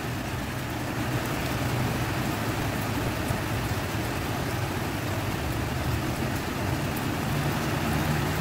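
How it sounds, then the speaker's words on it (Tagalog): Heavy rain pours steadily and loudly during a storm with landslides nearby, a dense, unbroken hiss of drops drumming on surfaces with no voices. "Sobrang lakas ng ulan,"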